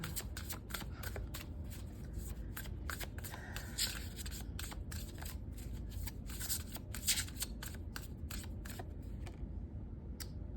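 Oracle cards being shuffled for a reading, a rapid series of close, crisp riffling snaps and flutters repeating for several seconds, quiet and without speech.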